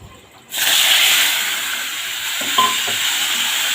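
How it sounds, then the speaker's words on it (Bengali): Salted, turmeric-coated Bombay duck fish hit hot oil flavored with black cumin, bursting into a loud, steady sizzle and hiss close by, with a few soft stirring clatters partway through. "আগে থেকে নুন হলুদ মাখিয়ে রাখা লোটে মাছগুলো তেলের ওপরে দিয়ে দিচ্ছি"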